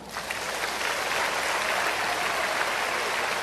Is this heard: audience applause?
yes